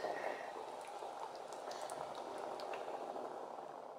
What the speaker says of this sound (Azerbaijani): artıq bizim ikramız yarım saatdır ki, qaynayır